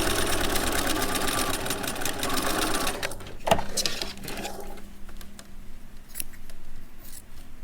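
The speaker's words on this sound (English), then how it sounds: "now you're going to sew from here to here" A sewing machine stitches a seam for a contoured head cover, a fast, steady mechanical whirr close by for about three seconds, then stopping, followed by quieter handling sounds and brief clicks.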